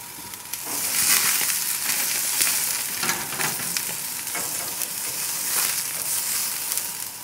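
Asparagus sizzling on a grill as part of a grilled vegetable platter, a steady loud frying hiss with crackling bursts that swell and ease throughout, with no talk.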